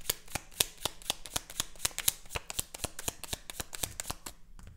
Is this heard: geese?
no